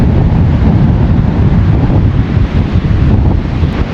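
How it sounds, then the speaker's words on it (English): Heavy wind buffets and roars across the microphone at a Los Angeles beach, with a constant broad rush and faint surf underneath; no one speaks. "It's really windy."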